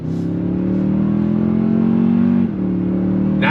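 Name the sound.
2022 Toyota Tundra twin turbo V6 accelerating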